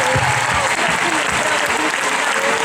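A concert crowd at a show in Macerata claps for the security staff, a loud dense wash of applause with low thuds underneath, steady for the whole stretch.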